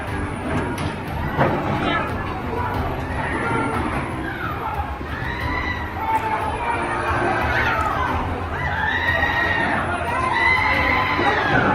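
A large crowd in Venezuela shouts, cheers and screams, with chanting voices rising and falling over a dense, continuous roar of many people.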